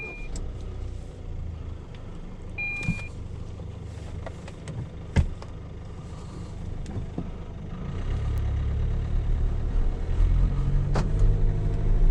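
A 2022 LDV T60 Max pickup truck drives along, its engine a low steady rumble from inside the cab that swells toward the end as it accelerates, with occasional small bumps and clicks.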